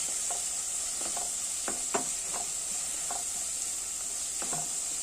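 Green chilies and curry leaves sautéing in a pan for a chicken curry: a steady hiss of frying runs throughout, with soft intermittent stirring scrapes.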